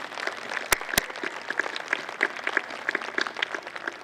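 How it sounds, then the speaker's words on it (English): An outdoor ceremony crowd applauds police officers, a fairly light, scattered patter of clapping from a spread-out audience with two sharp loud claps near the start. "So how about a round of applause for those men and women over there in blue?"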